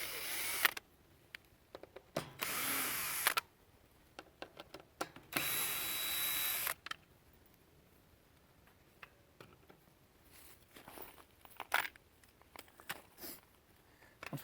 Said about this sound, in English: the first step is going to be to take out the 3 Phillips head screws to get the cover off